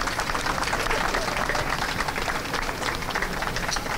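Sustained applause and clapping from an outdoor crowd at a pro-life march rally in Slovenia, a dense steady roar of many hands filling the whole stretch at fairly even loudness.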